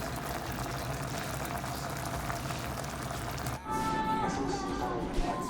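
Butter shrimp boils in a cooking pot with a steady, dense bubbling and hissing that shifts to a slightly different, sputtering texture partway through, heard close up.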